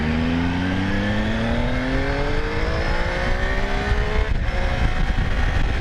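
A Triumph Tiger 800 motorcycle engine revving and pulling hard on rough, potholed gravel roads in Morocco, loud and continuous with rising pitch and wind rush, no talk.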